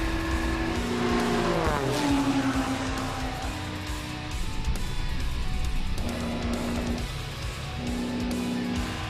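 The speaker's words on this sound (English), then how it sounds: "pilot Kirby Chambliss going wingtip to wingtip with IndyCar racer Alex Rossi" An IndyCar race car speeds alongside a Red Bull Air Race plane, a loud engine roar with rising and falling pitch that holds steady across the stretch, the two machines blending into one continuous drone.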